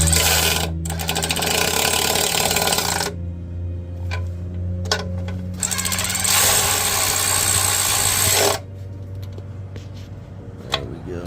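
A DeWalt power tool tightening 11mm bolts on a Jeep Wrangler YJ clutch slave cylinder swap, sounding in two loud rattling bursts separated by brief pauses, with a steady low hum underneath.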